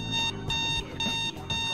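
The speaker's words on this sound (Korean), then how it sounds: "알람 울렸어" An alarm clock rings in a Friday Night Funkin cartoon: a loud, bright electronic ringing in repeated bursts with short gaps, close and dominant.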